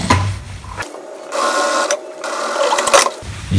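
Sewing machine stitching a remade denim jacket, a steady close mechanical whirring run that stops and restarts with brief pauses, heard alone without talk.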